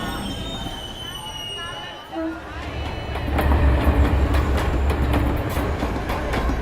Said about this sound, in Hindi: छत्रपति शिवाजी टर्मिनस जाने वाली धीमी लोकल प्लेटफॉर्म नंबर 2 से रवाना होने के लिए तैयार है